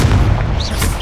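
A short, loud booming burst from the Incendio fire spell in the Hogwarts Legacy video game, a single heavy blast with a crackling tail filling the whole second.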